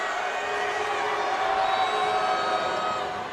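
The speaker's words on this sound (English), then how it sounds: "Crowd making some noise." A basketball crowd roars and cheers during an overtime free throw in a college game between Allen and Savannah State, a steady loud wash of voices and whoops from many people in the arena, swelling slightly midway.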